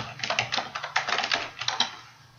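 Quick bursts of keystrokes on a computer keyboard, close and crisp, with a rapid irregular clatter of taps over about two seconds that tapers off at the end.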